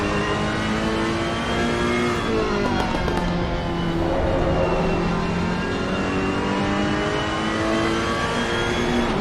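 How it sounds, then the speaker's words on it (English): A Ferrari race car engine in a PS5 racing game at Zandvoort winds up through the gears in a loud, continuous howl, its pitch climbing and dipping along the straight with no talk over it. "Andrali winding up that Ferrari one more time here, up the front straight."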